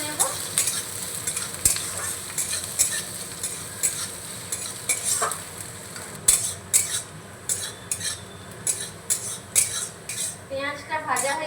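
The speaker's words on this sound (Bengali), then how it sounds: "পেঁয়াজটাকে আমি ভাজা ভাজা করে নেব।" Chopped onion sizzles steadily in a pan while a utensil scrapes and clinks against the metal in frequent sharp strokes, close and continuous throughout.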